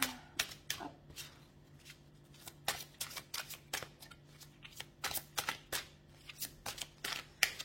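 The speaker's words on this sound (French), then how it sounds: "on va prendre une carte de l'oracle des mythologies" A deck of mythology oracle cards is shuffled by hand, giving a steady run of short, crisp riffling snaps close up, with no talking.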